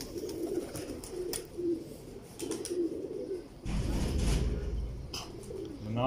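Fancy pigeons cooing in repeated low, throaty phrases with short pauses, close by, over a faint background hiss and thumps.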